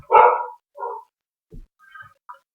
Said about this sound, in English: The dog's now barking.